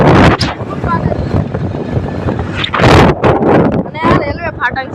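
Riding a motorbike in Idar, with strong wind buffeting the microphone in loud gusty bursts and a faint engine drone underneath, while people talk over the rushing air.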